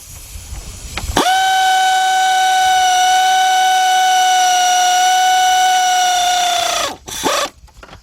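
An air ratchet tightens a bolt with a loud, sustained whirring whine for nearly six seconds, cutting off sharply before a brief final burst.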